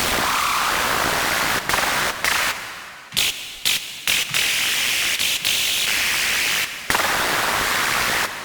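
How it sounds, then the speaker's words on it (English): Harsh hard techno synth screech built by FM from noise in Serum, a loud, dense distorted hiss with abrupt gated cuts and stuttering breaks throughout, no voice. "So I'm going to FM from noise, and I'm going to choose different kind of noise."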